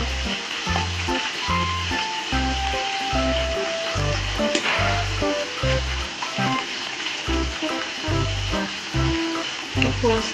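Ginger garlic paste sizzles and fries in a pan for chicken biryani, a continuous close crackle broken by thumps and scrapes of stirring.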